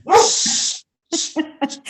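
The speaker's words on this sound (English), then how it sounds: "That's called dog interruption." A dog whimpers and squeals close by in short, bright bursts: one long whine, a brief gap, then several quick yips in succession.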